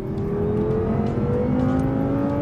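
A 2014 BMW M6 Gran Coupe engine pulls hard on a Formula One race track, a loud, steady rising drone as the revs climb smoothly under acceleration, heard alone and close without any talk.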